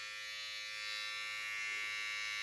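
Braun electric hair and body trimmer running with a steady high-pitched motor buzz, close and constant throughout, no talking.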